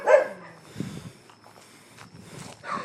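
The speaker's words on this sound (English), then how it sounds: "if I gotta listen to these fucking dogs bark every day and night" Dogs bark in a residential neighborhood: several scattered barks at moderate distance, separated by quieter gaps.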